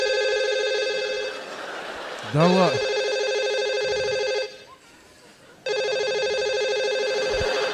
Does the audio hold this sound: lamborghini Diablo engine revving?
no